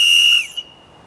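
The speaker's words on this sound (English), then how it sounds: "it's not very fun to hear this whistle" A safety whistle gives one sharp, piercing blast of about half a second, loud and close, then stops abruptly and leaves near silence.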